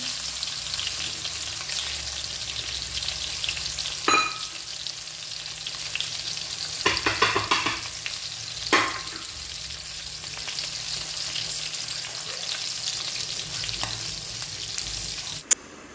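Stuffed brinjals fry in oil in a kadai with a steady, close sizzle that holds throughout, broken by a few brief stirring clinks and scrapes.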